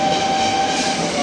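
A MEMU local train on the Katwa–Ahmedpur line rolls past with a loud, continuous rail roar and a steady sustained tone, no voices present.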